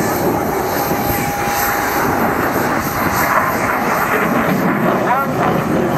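A jet aircraft at the Fairford airshow runs its engine at full power during a climb, a loud, continuous roar with whining tones, and a voice is faintly audible beneath it.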